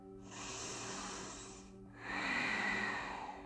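A yoga practitioner draws a deep, audible breath in through the nose during a glute-focused routine, a steady breathy rush lasting over a second, then a brief pause and a second, louder airy inhale, close and alone.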